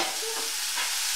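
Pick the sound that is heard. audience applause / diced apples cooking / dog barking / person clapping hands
diced apples cooking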